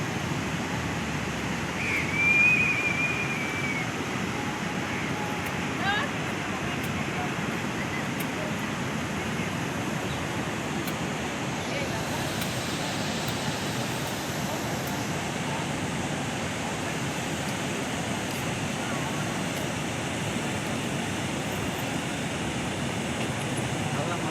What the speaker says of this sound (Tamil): நிறைய தண்ணி போயிட்டு இருந்ததுங்க அந்த தண்ணியோட சவுண்டு பாருங்க எப்படி இருக்குதுங்க